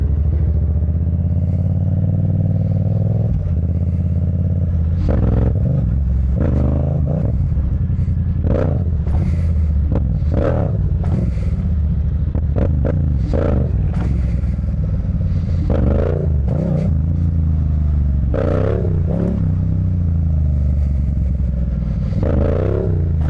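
A Yamaha MT-07 or Suzuki GSX-S750 doing a burnout in a parking lot, engine roaring loud and continuous with rising revs and tire scrabble, close and dominant throughout.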